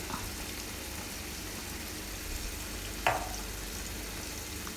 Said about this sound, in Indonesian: Bumbunya dimasak sampai benar-benar matang.